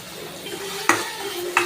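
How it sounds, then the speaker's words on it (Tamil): Onion, tomato, fennel, curry leaves and ginger-garlic paste stirred together in a pan, with a steady frying sizzle and two sharp utensil scrapes against the pan. "சோம்பு, வெங்காயம், தக்காளி, கருவேப்பிலை, இஞ்சி பூண்டு பேஸ்ட் எல்லாத்தையும் நல்லா மிக்ஸ் பண்ணி விட்டுடலாம்"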